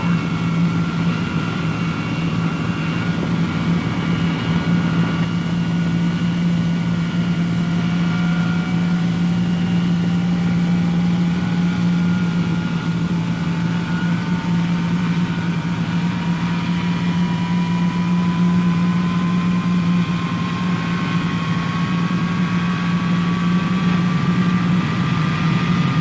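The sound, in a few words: Boeing B-47 Stratojet jet engines starting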